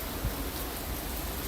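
Rain at Disney's Art of Animation Resort makes a continuous soft hiss, fairly quiet and even, with one faint low thump early on and nobody speaking.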